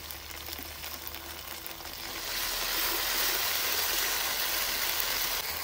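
Ground cumin and coriander paste with green and dried chillies sizzling in oil for a country duck curry, a steady frying hiss that swells louder and brighter partway through, with no talk.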